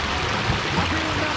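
El Barillo waterfall, a chorrerón on a pine-covered hill near Arcatao, Chalatenango, El Salvador, makes a steady broadband rush of falling water that keeps an even level throughout.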